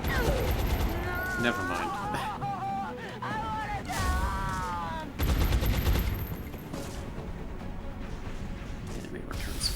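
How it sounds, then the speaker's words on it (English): Bursts of gunfire trade back and forth in the video game XCOM: Long War, rapid clattering volleys breaking out repeatedly under and between a voice and other game vocal sounds. "Enemy returns fire against the gunner."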